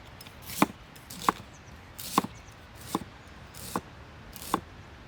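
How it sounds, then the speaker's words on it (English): Knife slicing fennel thinly on a board for a salad at an outdoor grill, six crisp evenly spaced chops close up over a quiet background. "the sound of a chopping fennel"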